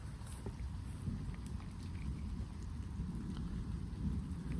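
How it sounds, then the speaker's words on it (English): Steady rain with distant thunder rumbling on a farm as a hailstorm ends, a continuous wash of rainfall with no talk. "Storm's just ending."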